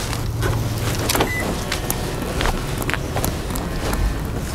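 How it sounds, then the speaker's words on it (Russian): A parked car is switched off and locked, and its side mirrors fold in: a steady motor whir with scattered sharp clicks and latch ticks, close by, with no speech. "автомобиль глушим и закрываем"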